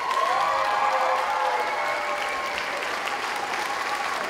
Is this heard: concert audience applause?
yes